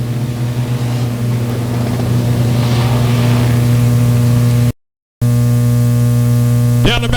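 600cc sprint cars racing at Buffalo Creek Speedway, a loud sustained engine drone with steady harmonic whine and roaring crowd-like wash, briefly cut out midway before resuming.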